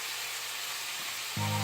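Sweet red peppers dropped into a hot pan for a simple seaweed soup, a faint broadband hiss giving way to a louder, sharper sizzle in the final moments, with no talk.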